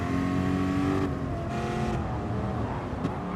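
Race car engines in a racing video game on the Laguna circuit, a loud, steady high whine with shifting revs and a brief tire squeal near the end.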